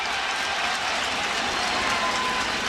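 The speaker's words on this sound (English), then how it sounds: "Yankee Stadium crowd to its feet." A stadium crowd at Yankee Stadium during a World Series game roars and applauds in a steady, dense wall of cheering that holds without a break.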